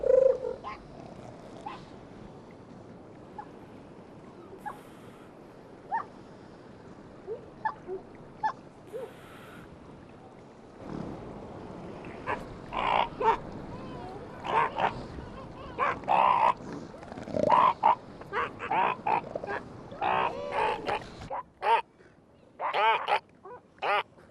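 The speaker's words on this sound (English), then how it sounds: "the mother and the newborn learn to recognize one another by the sounds they make" An elephant seal mother and her newborn pup trade calls at close range, with bleating cries and throaty grunts coming in irregular bursts over soft background noise, on a beach.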